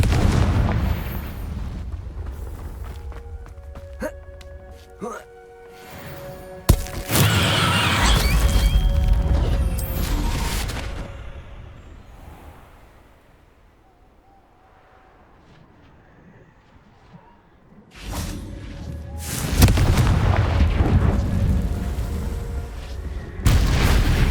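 Spell blasts of Confringo in the Hogwarts Legacy game, with loud booming bursts of explosion and crackle that come in clusters, drop to a quiet lull, then surge again with another heavy blast.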